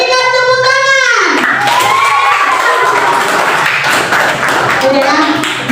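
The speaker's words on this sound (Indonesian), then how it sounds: "berikan tepuk tangan" A classroom of pupils clapping and cheering loudly right after a teacher's voice, dense continuous applause with shouting children over it for several seconds.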